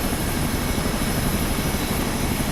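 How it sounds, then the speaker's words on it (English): Loud aircraft engines in Microsoft Flight Simulator 2024, around an R66 helicopter in the Cascade Range, make a dense, steady roar with a whining hum, continuous and close with no talking. "we got some loud planes out here"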